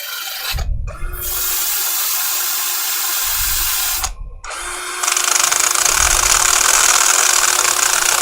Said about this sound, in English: as the drill's turning that way, the ball's coming that way, so it actually cuts into it.